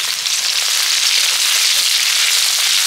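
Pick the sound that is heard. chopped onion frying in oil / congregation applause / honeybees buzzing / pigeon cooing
chopped onion frying in oil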